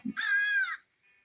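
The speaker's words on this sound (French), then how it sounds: "Oh, un corbeau." A crow in the video game Hello Neighbor gives a single loud, harsh caw close by, preceded by a short low thump and trailing into a faint tone.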